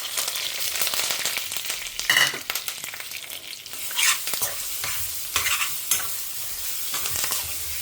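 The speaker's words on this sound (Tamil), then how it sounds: "இதை நல்லா உதிராக வதக்கிக்கலாம்" A ground spice paste sautéed in a frying pan hisses in a loud, bright, continuous sizzle, with bursts of scraping as the spatula stirs it every second or two, heard up close without voices.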